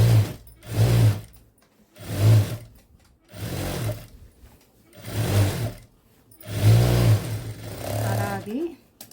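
A sewing machine stitches the back side of a blouse in loud, close mechanical bursts, starting and stopping about every second or so, with a brief voice near the end.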